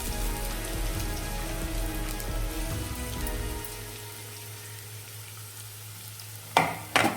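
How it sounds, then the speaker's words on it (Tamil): Onions frying in hot oil for a potato dosa filling give a steady close crackling sizzle that eases partway through, then a couple of louder scraping stir sounds come near the end, with no talking. "வெங்காயம் நல்லா வதக்கி விட்டுக்கோங்க, கலர் சேஞ்ச் ஆகிற வரைக்கும்."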